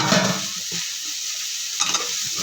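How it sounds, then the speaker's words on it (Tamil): Small chopped tomatoes sauté with onions in a pan for biryani masala, a dense, even sizzle up close with a brief burst of stirring near the end, nobody speaking. "சின்னதாக கட் பண்ணி வச்சுருக்க ரெண்டு தக்காளியும் சேர்த்துட்டு அதையுமே நம்ம நல்லா வதக்கி விட்டுக்கலாம்"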